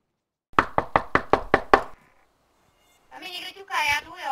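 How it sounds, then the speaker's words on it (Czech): Seven quick, evenly spaced knocks on a door in the video game DayZ Standalone (version 0.57, prison setting). They are loud and close. A short silence follows, then voices talk. "Tam mi někdo ťuká, já jdu, jo, já otevřu."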